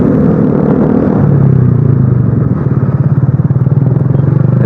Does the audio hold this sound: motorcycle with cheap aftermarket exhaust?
yes